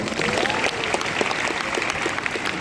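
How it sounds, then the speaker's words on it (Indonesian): A crowd at a large national youth conference in Indonesia breaks into loud, sustained applause that fills a big hall, with the clapping holding steady and dense the whole time. "Tepuk tangannya dong."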